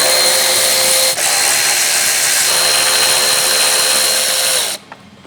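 A power tool whirs steadily at close range while removing the bolts from the exhaust heat shield of a 2022 Porsche 992 GT3. It runs loud for nearly five seconds, with a brief dip early on, and then cuts off.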